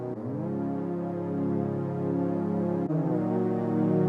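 Sustained synth chords swell in gradually, growing louder and fuller, then shift to a new chord near the end and keep building.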